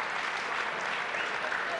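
A crowd at a petanque match applauds steadily, dense clapping filling the whole moment, with a commentator's voice faintly beneath it.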